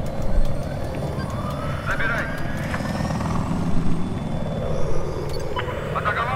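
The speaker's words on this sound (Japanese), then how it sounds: "またヘリがいる。" A helicopter in Battlefield 4 drones steadily and fairly loud through the whole stretch, with a rough rotor-like rumble, faint scattered clicks above it and a player talking over it.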